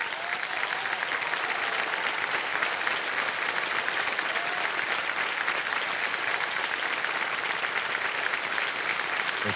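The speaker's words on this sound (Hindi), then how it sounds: "ये कुर्सी पे ताली बजते रहे इनके लिए।" A studio audience on the Hindi quiz show Kaun Banega Crorepati applauds steadily and loudly throughout, a dense, even wash of many hands clapping with no talk.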